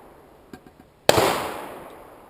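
A Ruger 22/45 pistol fires CCI .22 ammunition: a few faint clicks precede one sharp, loud gunshot that rings out and decays over about a second.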